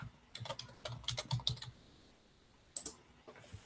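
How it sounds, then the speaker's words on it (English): Typing on a computer keyboard during an online working-group meeting: quick bursts of clicky keystrokes for about a second and a half, a pause, then a few more taps, close and fairly quiet. "We're both typing the same thing."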